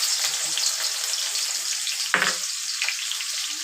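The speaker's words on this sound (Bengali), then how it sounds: "আমি এবার তেলের মধ্যে একটু পেঁয়াজ কুচিটা দিয়ে দেবো।" Chopped onion sizzles steadily in hot oil, a continuous close frying hiss with one sharper burst partway through as pieces shift in the pan.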